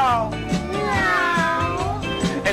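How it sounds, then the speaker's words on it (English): A cat meows loudly with a drawn-out, wavering cry, close by and with no talking. "I heard my cat meow."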